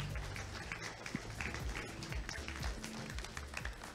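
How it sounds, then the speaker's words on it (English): Audience applause for speakers on stage at a Devcon Bogotá conference session, a steady dense patter of clapping filling the room throughout with no pauses. "let's just have another round of applause for everybody on stage"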